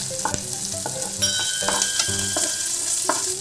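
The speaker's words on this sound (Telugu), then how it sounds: "జీలకర్ర, ఆనియన్స్ ఇవి బాగా ఫ్రై కావాలి" Cumin seeds and onions frying in hot oil crackle and sizzle steadily up close, with repeated sharp pops and spatula scrapes in an uneven rhythm.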